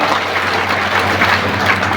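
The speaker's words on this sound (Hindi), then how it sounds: "ताली बजाओ भाई" Steady, continuous clapping from a crowd at a BSP political rally in India, filling the whole moment loud and even with no pauses.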